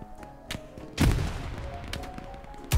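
Gunfire in the World War II shooter Hell Let Loose: scattered sharp shots and one heavy booming blast with a rumbling tail, close and loud against a battlefield background.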